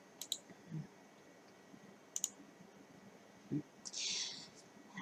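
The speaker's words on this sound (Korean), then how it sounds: "타일에서 마우스 오른쪽 단추 눌러줍니다." A few quiet, sharp clicks, singly and in a quick double, with faint low noise around them and a soft brief hiss near the end.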